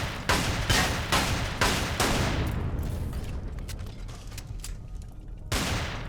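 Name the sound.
gunfire with cheap ammo in Empyrion video game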